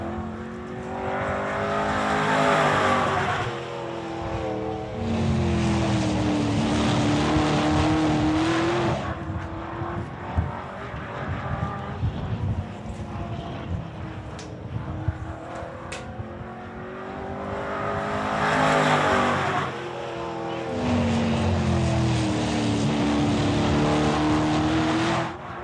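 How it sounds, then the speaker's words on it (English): Elite street stock race cars lap a short oval track, their engines swelling loudly as they pass close, fading between passes, then roaring back in a repeating cycle with occasional tire noise. "Second lap a bit quicker for Brady"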